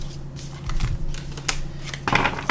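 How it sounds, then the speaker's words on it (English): Two combined tarot card decks being shuffled by hand, a series of quick papery riffles and soft slaps close by, ending in a denser burst of shuffling. "I combined 2 decks here for the advice section. So give me 1 second to try and shuffle this."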